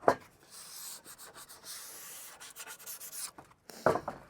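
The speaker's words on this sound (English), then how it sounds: "then it gets a bit of a sand here" Wood edges sanded by hand in an off-grid workshop in Africa: repeated close scratchy rubbing strokes in short bursts, a brief pause, then a firmer final stroke.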